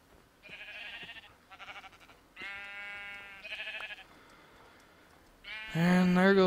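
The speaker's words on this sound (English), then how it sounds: "What's with all the sheep?" Minecraft sheep bleat in a quick run of wavering calls, one after another, with the loudest and closest bleat at the end.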